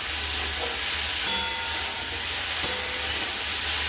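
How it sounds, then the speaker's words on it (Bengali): Small fish fry in a pan with turmeric and salt while being stirred, a steady, even sizzle and hiss throughout with a couple of faint clinks from the stirring utensil. "দিয়ে দিলাম হলুদ গুঁড়ো আর দিয়ে দিলাম সামান্য লবণ দিয়ে এটাকে আমরা নাড়াচাড়া করবো"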